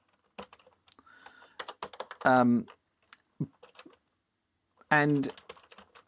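A Timex 2068 computer keyboard with hard, widely spaced keys gives a series of light, clicky keystrokes in uneven bursts, while someone speaks briefly between them.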